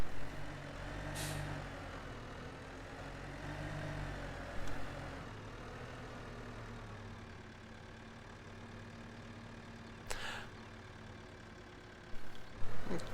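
A tractor rolls down a hill in the farming game Farming Simulator 15 with its brakes held on. A steady engine drone runs throughout, broken by a few short, sharp hissing bursts from the brakes.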